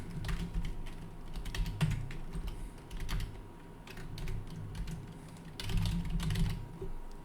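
Fingers tapping on a computer keyboard in quick, uneven bursts, close and fairly quiet, with short pauses between runs of keystrokes and no talking.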